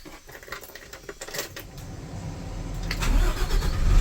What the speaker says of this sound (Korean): 시동 한번 켜드리고요.